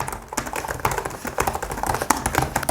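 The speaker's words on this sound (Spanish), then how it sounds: "me parece que suenan tan bien las teclas y que es tan gratificante que el teclado es una maravilla" Fingers type on the keyboard of a Microsoft Surface Laptop 3, producing a quick, close stream of crisp, light key clicks with no talking.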